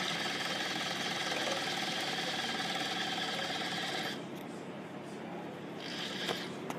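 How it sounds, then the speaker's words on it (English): Sewing machine stitching oversized gauntlet arm cuffs for a Planet of the Apes costume, a steady fast mechanical whir close by that drops in intensity partway through and then continues more quietly. "Sorry, I'm trying to sew with one hand."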